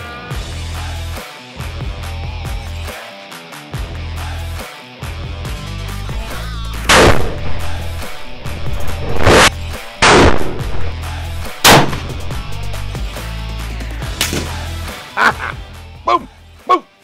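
Single .50 BMG rifle shot fired during a nilgai antelope hunt at a Texas ranch, one loud sharp report with a booming tail, amid outdoor sounds and quiet talk, with a few more sharp cracks later.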